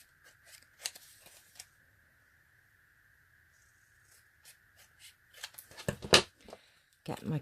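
Scissors cutting card stock along a line make faint, crisp snips, sparse at first and then a quick cluster of louder cuts near the end, over a quiet room hum.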